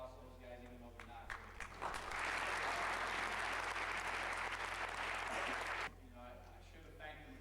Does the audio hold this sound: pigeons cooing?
no